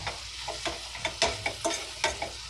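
Onions stirred and fried alongside steak in a hot pan, a steady sizzle broken by repeated sharp scraping strokes of a spatula, close and fairly loud with no talking.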